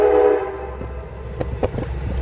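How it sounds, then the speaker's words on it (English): A train passes near a boatyard with a horn sounding at the start, followed by rumbling and clattering of rail cars, moderately loud with a few sharp knocks. "there's the train"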